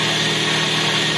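Toyota Vios engine idling after a radiator failure and overheating, a steady, even mid-pitched hum recorded close, with no talk over it.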